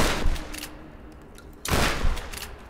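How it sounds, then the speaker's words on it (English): Shotgun blasts in the Tomb Raider video game, two loud booming shots with a lull between them, each leaving a short decaying tail, heard alone without speech. "What if I shotgun,"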